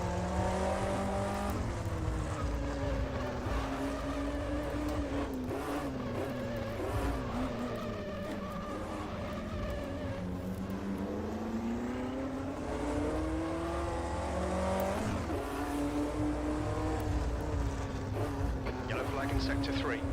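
A 1958 Formula 1 race car in the Automobilista video game, on the Napoli circuit, with its engine droning and rising and falling through low-gear revs for about twenty seconds while someone talks over it.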